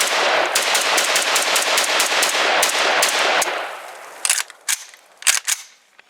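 A SAN SG553R in 7.62x39 fires a rapid string of loud, sharp shots at an outdoor range, close to the listener, followed by a few scattered single shots and clatter after the string ends.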